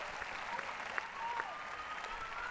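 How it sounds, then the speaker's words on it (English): A tennis crowd applauds steadily as a player is introduced before an ATP match, dense clapping holding an even level throughout without any voice on top. "That deserves a round of applause"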